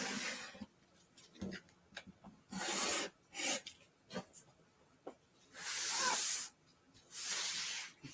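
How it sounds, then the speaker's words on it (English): Rotary cutter slicing through quilting fabric while fussy cutting a wolf motif, several separate hissing, rasping strokes of varying length with quiet pauses between, close and alone. "I'm going to fussy cut this wolf."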